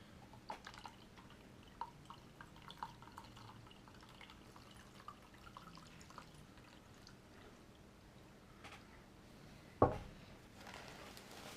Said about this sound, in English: We're going to fill it up with a little bit of maple syrup.